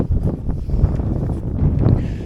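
Strong wind outdoors at a garden site being laid out for raised beds, buffeting the microphone in loud, continuous low rumbling gusts.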